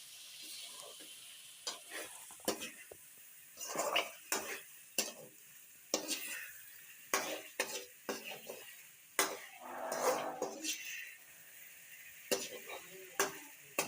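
Eggs stirred into a sizzling masala gravy, with irregular scraping and clinking strokes of a utensil against the pan over a soft background sizzle, close and fairly quiet.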